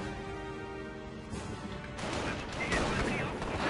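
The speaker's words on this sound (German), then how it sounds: "Der Stützpunkt liegt unter Beschuss." A base in the strategy game Company of Heroes comes under attack: dense rattling gunfire and explosive crashes erupt after a quieter start, staying loud and continuous to the end.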